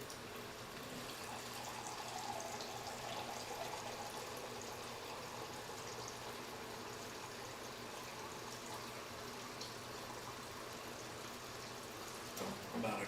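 Water poured from a tap into a cooking pan, a continuous soft gushing splash held steady throughout, fairly faint.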